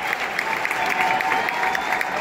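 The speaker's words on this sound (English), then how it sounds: "Everyone's clapping." Dense clapping from a large stadium crowd at a Blue Jays vs Braves baseball game, a steady, slightly distant patter of many hands with no break.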